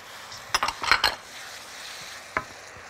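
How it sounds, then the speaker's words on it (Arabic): Coriander and cumin sautéing in a pan before grated tomatoes go in, heard as a quick cluster of spoon clinks and scrapes against the pan, then one more clink after a pause, over a faint, steady background. "واسيبهم ايه يتشوحوا كده شوية"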